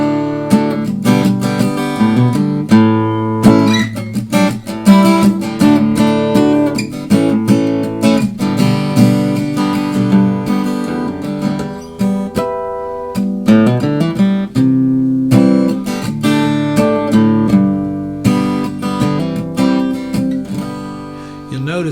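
Acoustic guitar played through a BOSS AD-10 acoustic preamp with the EQ engaged, strummed and picked continuously with rich chords and ringing single notes, steady and close with no talking.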